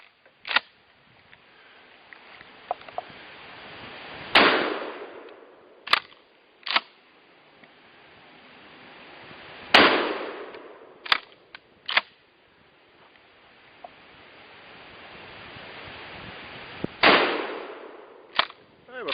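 A shotgun firing DIY bonded shot shells booms sharply about eight times at irregular intervals, each report followed by a rolling echo across open ground.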